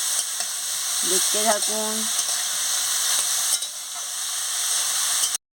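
Snake gourd frying in a pan, a steady close hiss of sizzling oil throughout, with a spatula stirring and a brief spoken phrase partway through over the frying.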